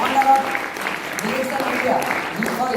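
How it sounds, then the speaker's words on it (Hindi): An audience claps steadily throughout, a dense patter of applause with a few faint whistles. "जोरदार तालियां"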